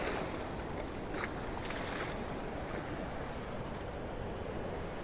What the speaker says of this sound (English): It's almost like the coast here, isn't it? The waves lapping up.